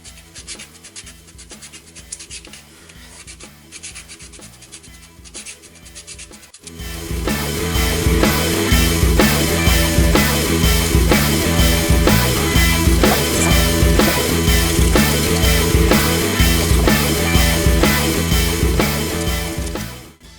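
Sanding on a Heller 365 GTB 1/24 scale model car, heard as a soft rasping rub that turns into a loud, steady, continuous scrubbing lasting many seconds, close by and alone.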